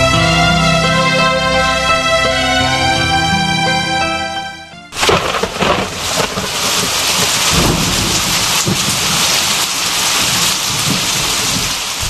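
Heavy rain for a radio drama falls as a loud, dense wash of downpour, with rumbling thunder mixed in, after a few seconds of a sustained musical tone; no voices.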